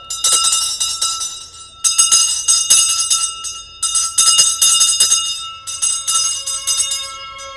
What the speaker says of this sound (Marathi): चल तिसरी बेल देऊया